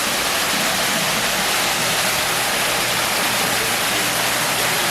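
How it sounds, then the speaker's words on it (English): A waterfall pouring into a backyard pool at a Los Angeles house, a loud, steady broadband rush of falling water that fills the space without a break and with no voices. "we got the waterfall with the pool"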